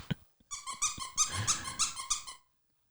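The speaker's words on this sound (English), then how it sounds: "We always squeak the toys in the war room, and it drives everybody's dogs crazy." A dog's squeaky toy is squeezed in a quick run of about eight sharp, close squeaks, each one loud and bright, with a faint low dog growl underneath and silence afterward.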